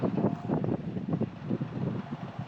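Gusty wind buffets the microphone outdoors in steady low rumbling bursts while a cheap toy RC boat runs nearby on a very windy day, with no voices heard.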